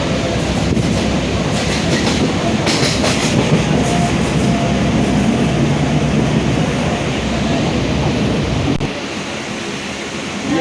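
Mumbai local train running between Bhandup and Nahur stations, a loud continuous rumble and rattle of the carriages, rolling steadily and heard from inside.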